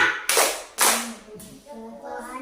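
Group clapping chant Tepuk Pancasila in a classroom, with two loud sharp claps followed by a rhythmic chanted call with voices and softer patting.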